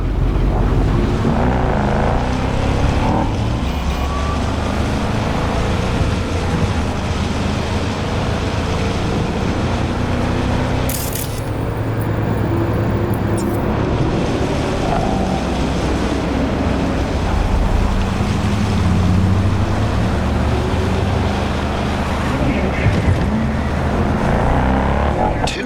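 Car driving in Cyberpunk 2077, a steady engine and road rumble running throughout with rushing, wind-like noise on top and no talk.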